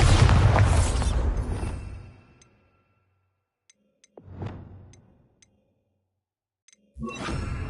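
Spell blasts from Confringo and Bombarda in Hogwarts Legacy: a loud booming explosion fading out, a sharper mid-length burst, then another blast, separated by near silence and faint ticks.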